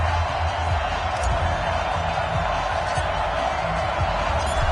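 A packed NFL stadium crowd roars steadily at a Seattle Seahawks versus Los Angeles Rams game in week 17, a dense, loud wash of noise with scattered shouts and no pauses.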